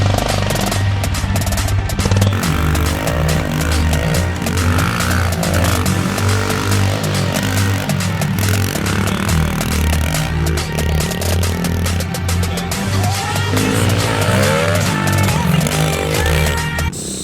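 A pit bike revs and bogs through a muddy backyard dirt track, its engine buzzing loud and close with constant throttle swells and sputters and no pause.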